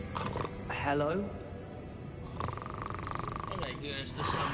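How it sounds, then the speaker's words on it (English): In a Hogwarts wizard video game, a sleeping creature gives rough, drawn-out snores, rising and falling between stretches of a person speaking. "Yeah, I hear something snoring."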